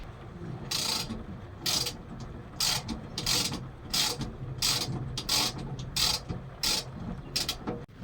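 A ratchet undoes a nut on the rusty rear wiper motor of a 1998 Vauxhall Vectra B, giving a steady series of sharp rasping clicks in quick repeated strokes over low background rumble, close and fairly loud.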